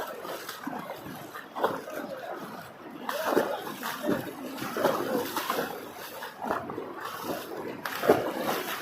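Water rushes and splashes nearby in uneven surges, with faint voices and movement mixed in.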